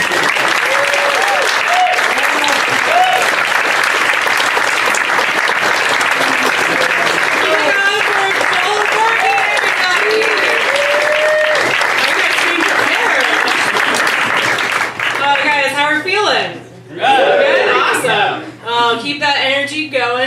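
Sustained audience applause fills a stand-up comedy class showcase, dense and steady for about fifteen seconds with scattered whoops, then thinning into a few claps as a host begins talking over it.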